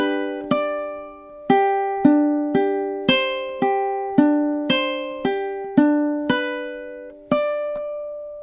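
Ukulele plucking measures 12 and 13 of a song, a steady run of about a dozen clean picked notes and chord tones, close and alone with no talking.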